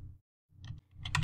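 Short bursts of typing on a computer keyboard at a Linux terminal: a few quick key clicks after a brief pause, close and fairly quiet, with a denser cluster of taps at the end.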